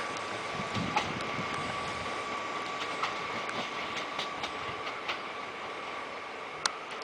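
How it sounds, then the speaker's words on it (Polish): A passenger train rolls along mountain railway tracks around a curve near Leliki, Poland, with a steady rumble and scattered clicks and clacks from the wheels, one sharp knock near the end. "Piękny zakręt, no i zniknie nam pociąg za łukiem."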